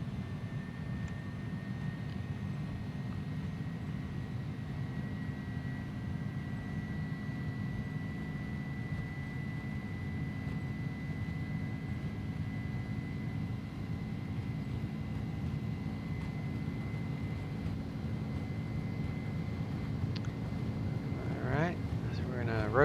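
Steady low roar of an Airbus A300-600F freighter's jet engines at takeoff power in X-Plane 11, a continuous droning rumble with a faint whine that swells slightly toward the end, with some brief chirps near the close.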